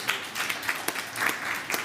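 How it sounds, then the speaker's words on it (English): Moderate applause from the audience at a circular-fashion startup demo day continues steadily, with distinct individual claps popping out of the softer crowd patter. "big round of applause for Salubata one more time"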